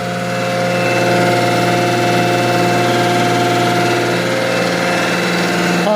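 A machine table's motor and pump run together in a steady, loud, unbroken drone with a tonal hum, heard up close.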